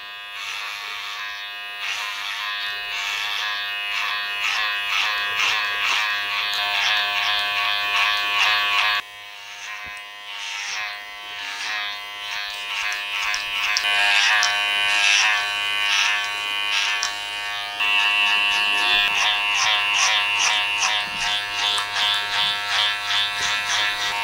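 Electric hair clippers cutting hair during a men's haircut, a loud continuous close-up buzz with shifting pitch as the blade bites through hair, briefly dropping and resuming midway.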